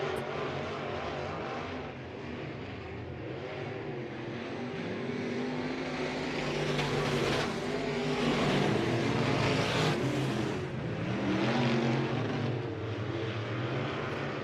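Race cars run down the backstretch of a speedway track, a sustained engine roar that swells and fades as the pack passes, loud and continuous with no voices.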